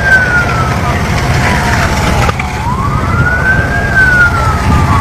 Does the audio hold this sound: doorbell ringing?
no